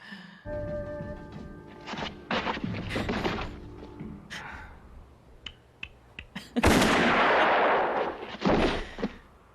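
Gunfire from the classic Western film The Good, the Bad and the Ugly, a series of sharp loud shots and heavy booming blasts scattered over a few seconds, with a long rumbling burst near the end.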